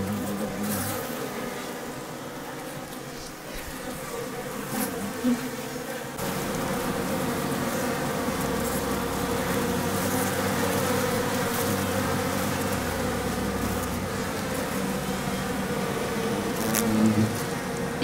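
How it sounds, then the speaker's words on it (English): Japanese honeybees shimmer in unison to ward off yellow hornets, a dense, continuous buzzing hum that holds steady throughout, with faint intermittent rumble in the background. "To ward off the hornets, the bees shake their bodies in unison."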